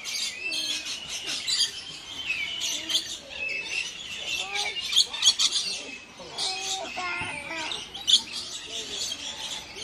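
Many small birds chirp and tweet in quick overlapping calls at a bird park, a busy, fairly close chorus of high bright notes with brief faint voices now and then.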